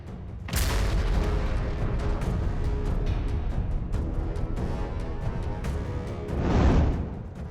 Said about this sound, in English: one of the Russian vehicles moving to Nediivka was completely obliterated by the landmine explosion